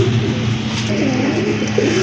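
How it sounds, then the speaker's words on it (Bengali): Rajgolla pigeons at a pigeon sale coo continuously, with low rolling calls repeating close by over a steady background hum. "আরেক জোড়া কবুতর রাজগোল্লা কবুতর খুবই সুন্দর মার্কিং"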